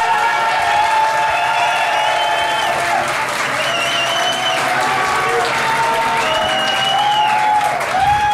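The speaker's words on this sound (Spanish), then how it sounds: "Aplausos para Sabrina O'Donnell." A studio audience applauds a contestant on a reality show, with loud sustained clapping and some crowd cheering, continuous throughout and overlaid by tonal music or voices.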